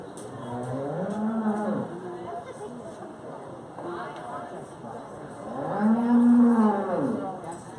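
A dairy cow at a 4H fair dairy show moos twice, long low calls near the start and a louder one near the end, with show announcing and crowd murmur running under them.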